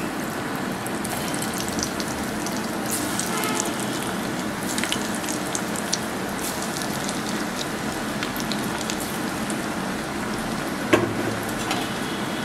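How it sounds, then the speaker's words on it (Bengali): Breadcrumb-coated potato cheese balls deep fry in hot oil with a steady, even crackling sizzle that holds throughout at moderate volume, and one sharper pop near the end. "বলগুলো দিয়ে ভেজে নিব দ্রুত"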